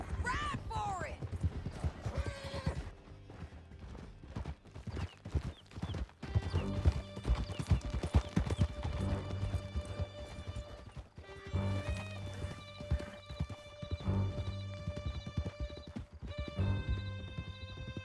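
Horses gallop and whinny in Red Dead Redemption 2, rapid hoofbeats driving steadily over a musical score, with neighing early on and shouted voices over the chase.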